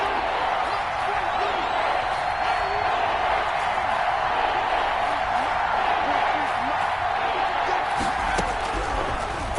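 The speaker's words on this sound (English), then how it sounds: "The crowd getting into it as we come up on a big 3rd down." A stadium crowd in an American football video game, a steady loud roar of cheering throughout, with a voice talking over it and a few thuds near the end.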